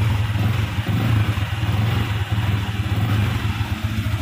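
A motorcycle engine idles steadily at close range, a low, even rumble with a slight pulsing throb.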